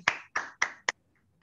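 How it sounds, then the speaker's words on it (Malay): Four quick claps from a group in a communication course session, evenly spaced and fairly close, ending abruptly with silence after. "Okay, tepukan, tepukan."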